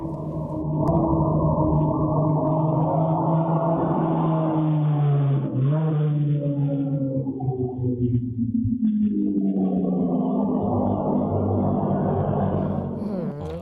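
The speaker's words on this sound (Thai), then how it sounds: "เฟอร์รารี่ขับเป็นมอเตอร์ไซค์แว้นเลย นะเสียงดังมากเลยครับ" A Ferrari sports car engine roars loudly, its pitch sweeping up and down with rapid revving that stays close and continuous for several seconds.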